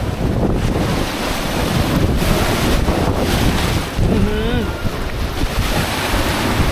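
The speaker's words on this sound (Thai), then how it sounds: "ตอนนี้ลม" Strong wind buffets the microphone beside a broad freshwater lake in Uganda, with waves surging and rushing continuously at a loud, steady level.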